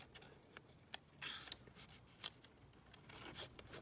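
Scissors snip through paper ephemera during a craft session, a few quiet separate cuts with soft rustling and handling noises in between, close and faint, with no talking.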